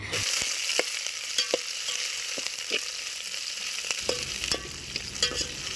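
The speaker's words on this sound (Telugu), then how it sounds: "ఇక్కడ ఆనియన్స్ అండ్ మిర్చిని కొంచెం golden colour golden brown colour వచ్చేదాకా వేయించుకోవాలి" Onions and green chillies sizzle steadily in hot oil for Telangana-style bagara rice, a dense frying hiss broken by sharp scrapes and clicks of a spatula stirring the pan, close and alone.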